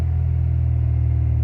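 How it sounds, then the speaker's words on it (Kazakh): A Mercedes W124 with a 2.3 engine idles with a fault that makes it rev up by itself, producing a close, steady low engine rumble with a slight pulsing throughout and no voices. "Машина өзімен өзі газовать етіп тұрады."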